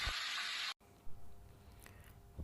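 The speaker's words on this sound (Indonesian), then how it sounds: "masukkan tempe ke dalam minyak panas tersebut secara perlahan-lahan dan hati-hati" Tempe slices fry in hot oil, with a loud, dense sizzling hiss for under a second that cuts off abruptly, followed by quieter background noise and a few soft knocks.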